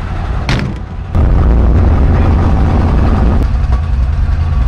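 A 1959 Chevy Apache Napco 4x4 truck engine idles loud and close, a steady low rumble that settles in after a brief rough start.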